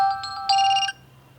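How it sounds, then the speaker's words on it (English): Crisp ring alarm tone on a Vivo Y16 phone, a short bright chiming melody of a few quick electronic notes, loud and clear, then silence. "This is crisp ring"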